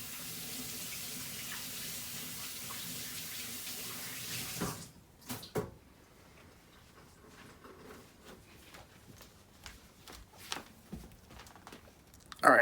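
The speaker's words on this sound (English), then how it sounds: "I'm just gonna wash my hands quickly" Tap water runs steadily into a sink as hands are washed under it for about five seconds, then the flow cuts off, leaving scattered small drips, rubbing and handling knocks nearby.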